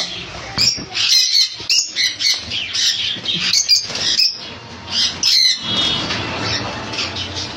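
Lovebirds and conures in a bird shop squawking and chattering loudly in bursts, shrill overlapping calls close by with brief pauses between flurries, no voices.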